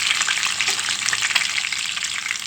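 Boiled eggs fry in a pan, giving a steady, close sizzle with crackling spatter throughout and no voices.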